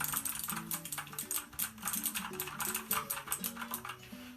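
Rapid typing on an EasySMX budget mechanical keyboard with clicky Cherry MX Blue-style switches, a dense irregular patter of sharp clicks and key thocks, close up and continuous without speech.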